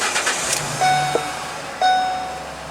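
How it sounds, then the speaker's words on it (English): A van engine starts up on a cold morning at the roadside, with two sharp cranking catches followed by a steady near idle hum and a faint high whine, no talking. "start the van"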